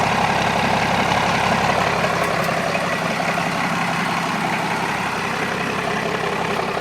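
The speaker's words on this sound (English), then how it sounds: "Straight pipe still sounds beautiful." A 1992 Cummins diesel 4x4 truck with a straight pipe idles steadily, a loud rumbling drone with a rough low throb and no pauses.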